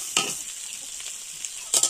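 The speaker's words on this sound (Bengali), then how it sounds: "কিছুক্ষণ ভেজে নেব।" Food frying in a pan with bursts of stirring at the start and end, a steady hiss of sizzling oil running throughout, close and moderately loud, no voices.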